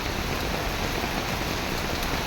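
Steady, dense late-monsoon rain hisses continuously at an even level, close by.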